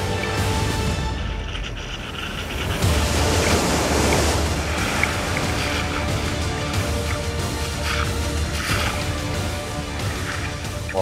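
Heavy sea surf rolling and crashing continuously during a sea rescue, a loud broadband roar with gusty wind noise on the microphone and surges of breaking waves throughout.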